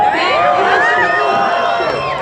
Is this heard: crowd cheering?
yes